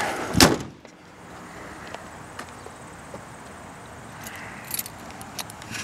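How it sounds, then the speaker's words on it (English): The hood of a 1998 Grand Prix slammed shut, one sharp loud thud at the start, followed by quiet outdoor ambience with faint scattered clicks. "I'm gonna go to close the hood so you can see that."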